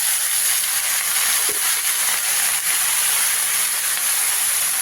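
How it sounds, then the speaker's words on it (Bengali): Salt-water-soaked brinjal pieces land in hot oil with browned potatoes, giving a steady, loud, unbroken hiss of sizzling that runs evenly from start to finish with no talking. "এবারে এর মধ্যে আমি নুন জলে ভিজিয়ে রাখা বেগুনগুলো এর মধ্যে দিয়ে দিলাম"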